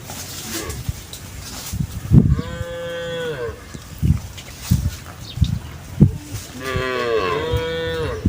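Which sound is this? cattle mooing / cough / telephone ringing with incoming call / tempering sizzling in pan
cattle mooing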